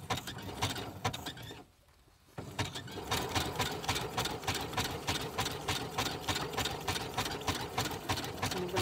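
A sewing machine stitching a music paper envelope runs in a fast, steady mechanical rhythm, pauses briefly for about half a second, then resumes for a long continuous run, close and clear.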